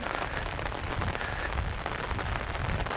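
Rain pours steadily outdoors, a close, uniform wash of drops patters on surfaces without pause, with no one speaking.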